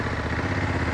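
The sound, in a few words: Honda CRF1100L Africa Twin motorcycle being ridden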